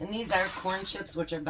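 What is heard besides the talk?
No everyday noise stands out behind the speech.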